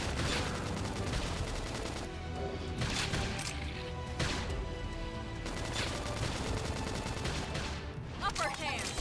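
Rapid bursts of gunfire from a mech in Xenoblade Chronicles X crackle almost continuously, dense and loud, with brief pauses between volleys.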